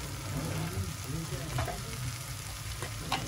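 Malvani, ghati and garam masala powders sautéing in a pan for paneer bhurji give a close, steady sizzle and hiss with a few sharper crackles, while a voice murmurs faintly underneath.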